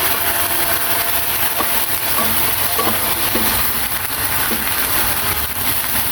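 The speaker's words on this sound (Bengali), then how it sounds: "আদা রসুন বাটা দিয়ে পেঁয়াজগুলো ভালোভাবে ভেজে নিলাম" Onions frying with ginger-garlic paste in a pan for spicy egg bhuna, a steady loud sizzle running throughout with faint stirring clinks, no voices.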